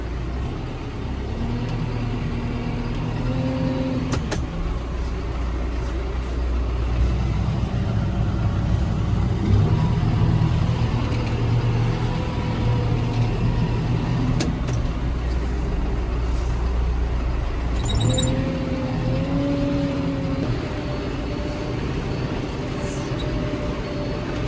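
A loader tractor with a cab runs at a steady, moderate engine drone on a cold winter night, with faint whining tones rising now and then and a few light clanks over the continuous rumble.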